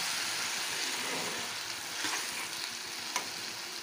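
Ash gourd fritter curry sizzles in a covered pan after a splash of water, a steady close hiss with faint stirring clicks and a sharp tap near the end.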